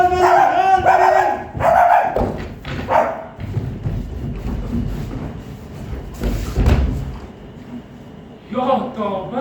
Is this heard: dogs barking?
yes